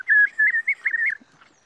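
A bird calls near a river, a run of quick, bright chirping notes close by and clear, then a couple of softer faint notes as it trails off, with no talking over it.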